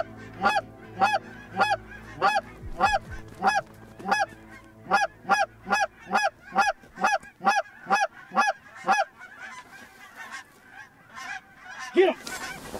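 Geese in a small flock honk in a steady, rapid series of loud, nasal calls close by, about two a second for nine seconds, then trail off into a few scattered honks.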